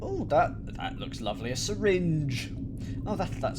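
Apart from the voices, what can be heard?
No everyday noises stand out.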